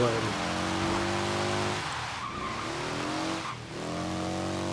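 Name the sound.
Morgan 3 Wheeler taking off with wheel spin, Forza Horizon 3 video game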